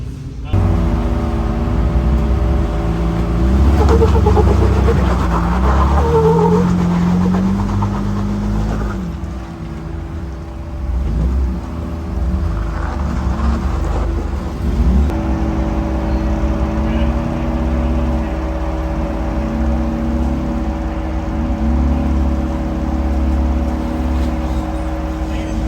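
A Jeep that has just rolled over idles with a steady, loud engine rumble, close by, while people talk over it and the pitch shifts slightly partway through.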